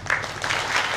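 Audience applause at a kirtan for Sant Namdev Maharaj's death anniversary in a Pune village, a brief burst of clapping from a crowd, moderately loud and dense.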